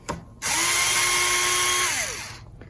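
A power drill bores into a Firebird-style guitar body, giving one loud sustained whine of about a second and a half that winds down as the bit slows, then stops.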